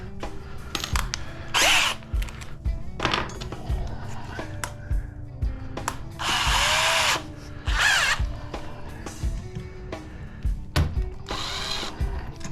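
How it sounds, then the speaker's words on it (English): A power drill fitted with a pilot bit bores a screw hole in bursts of loud whirring, revving up and stopping repeatedly at close range, with clanks and knocks between runs. "now we're going to use a pilot bit, just to make sure we don't, that it'll screw in there good"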